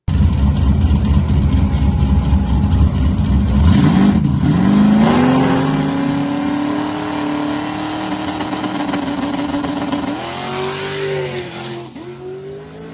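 Drag racing truck on a pass, engine roaring loud and close from the start, then a strong rising acceleration sweep that holds steady before shifting and fading slightly near the end.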